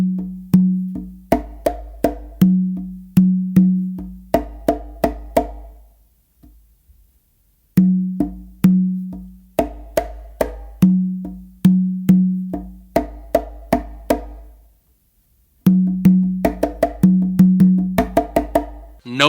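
Congas play a slappy funk pattern of crisp close slaps and quiet ghost notes, in three repeated bursts of rapid syncopated hits separated by short pauses, loud and close with no talking.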